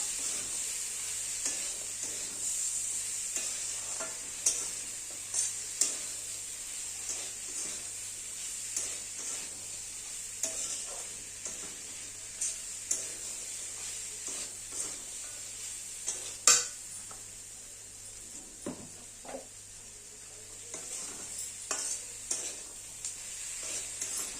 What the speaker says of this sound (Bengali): এবার দিয়ে দেবো সানরাইজের লঙ্কা গুঁড়ো, ভালো করে এবার কষিয়ে নেব।